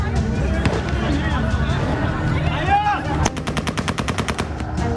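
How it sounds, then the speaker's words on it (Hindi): Automatic rifle gunfire in the air in Kabul, Afghanistan, amid a crowd: scattered shots over loud babble, then a rapid, even burst of repeated shots that dominates toward the end. "हवा में फायरिंग, लोगों पर गोलीबारी"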